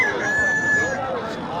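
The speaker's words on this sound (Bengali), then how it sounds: "সেখানে কি সুন্দর মুরগি লড়াই হচ্ছে" Roosters crow loudly in a long sustained call at an outdoor cockfight held during a tribal village festival, with crowd noise and voices clamouring throughout.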